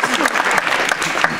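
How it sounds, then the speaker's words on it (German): A large audience at a domino world-record show breaks into dense, loud applause from many hands, a continuous roar of clapping filling the hall for the whole short stretch. "vielleicht auch mal einen extra Applaus."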